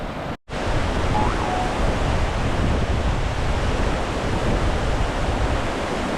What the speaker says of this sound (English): You can get under this waterfall and take a shower if you like